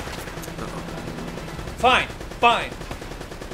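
Two gunshots in the video game Uncharted ring out about half a second apart over steady game background noise, with someone speaking briefly.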